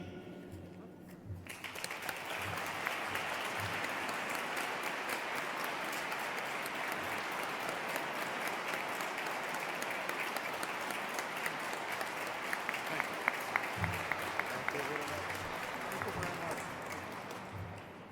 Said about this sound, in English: one more generous round of applause